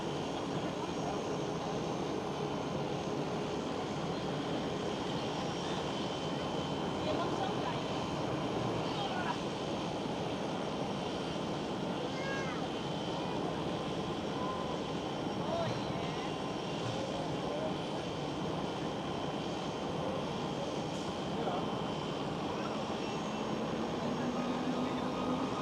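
An Air Baltic A220 jet taking off from a runway intersection at Schiphol, Amsterdam, a steady distant engine roar spread over a long stretch, with faint talk in the background.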